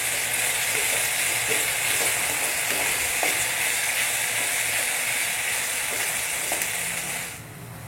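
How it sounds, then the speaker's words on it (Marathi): Onions with ginger-garlic paste sizzling in a pan over high heat, a continuous loud frying hiss with occasional stirring scrapes, cut off abruptly near the end. "त्याला देखील 1 मिनिट फ्राय करून घेऊ मस्त मोठ्या आचेवरच"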